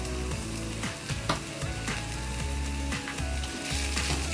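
About 75 grams of ground beef sizzles in a cast iron Dutch oven for chilli soup. The hiss is moderate and continuous, with occasional stirring knocks, and music plays in the background.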